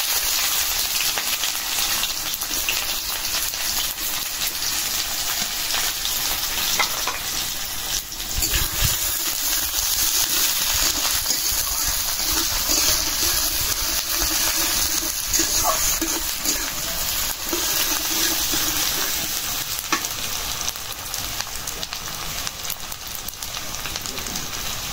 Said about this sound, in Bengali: পেঁয়াজ কিছুটা ভাজা নিলাম।